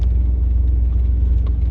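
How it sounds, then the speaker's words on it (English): Deep steady engine rumble from a 1989 Pontiac Firebird Formula heard inside the car while driving, a loud low drone that holds evenly throughout with no talk. "Hopefully you can hear how amazing this freaking car sounds."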